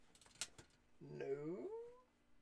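A cat gives a single drawn-out meow up close, rising then falling, after a few faint clicks, with no voices over it.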